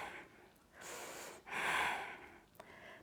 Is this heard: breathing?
yes